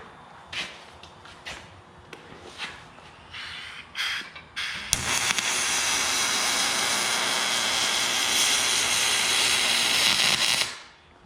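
Steel boat parts being welded with an XR30 welding gun: after a few short bursts and clatters, a loud continuous hiss and crackle runs for about six seconds, then cuts off abruptly.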